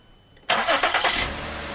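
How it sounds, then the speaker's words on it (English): A 2010 Lincoln MKX engine starts abruptly and settles into a steady idle with the AC compressor engaged and cooling fans running, a close, loud crank then a continuous hum and whir. "So right there, engine's running, compressor's on, fans are spinning."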